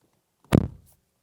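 A single solid thud of a 2024 BYD Sealion 6 SUV door shutting, short and close, followed by quiet.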